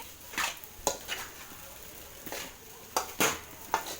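Dry semolina (rava) roasting in a pan over medium-low flame, with a spoon scraping and stirring through it in several sharp, irregular strokes, close and fairly quiet, with no talk.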